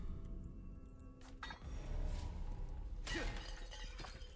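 Clay pots smashed in Resident Evil 4 Remake to loot ammo, with a sharp shattering crash and scattered clinking fragments about midway through, no voice.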